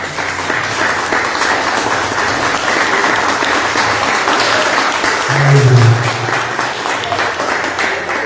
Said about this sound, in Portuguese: Então, dê um aplauso ao Senhor Jesus.